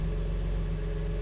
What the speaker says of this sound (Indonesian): Mesinnya bunyinya masih mirip sama E36 karena secara konstruksi dan secara jenis masih mirip